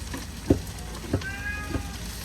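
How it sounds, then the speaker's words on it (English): A noisy domestic cat meows at night, a few short, moderately loud calls spaced about half a second apart over a low background hum. "Noisy cat, really always."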